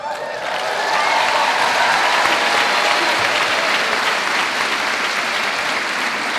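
Loud, sustained applause from a large crowd at a college commencement ceremony, steady and dense for several seconds without letting up.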